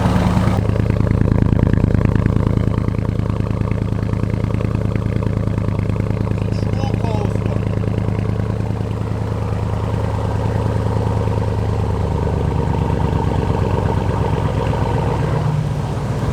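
Straight-piped 958 Porsche Cayenne Turbo engine idles after a cold start, a loud steady low rumble with a lumpy pulse that continues throughout, with people talking over it.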